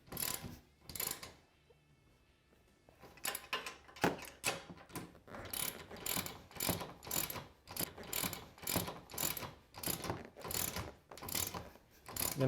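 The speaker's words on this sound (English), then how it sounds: "And we'll go ahead and tighten them down." A hand ratchet tightens nylock nuts on Can-Am Commander UTV mounts, sounding as a steady series of close, rhythmic clicking strokes after a short pause.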